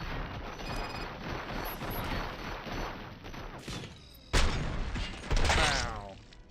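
Dense, continuous gunfire from the RoboCop: Rogue City game on PC, a steady loud barrage lasting several seconds, with two sharper, louder bursts near the end and some game voices mixed in.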